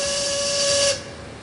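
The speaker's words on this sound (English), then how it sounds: "You didn't just blow the whistle, did you?" A ship's steam whistle blows loud and steady with a hissing edge in the Titanic hidden-object game, a single sustained blast that cuts off near the end, leaving a fading hiss.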